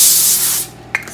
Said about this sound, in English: some aluminum foil with some cooking spray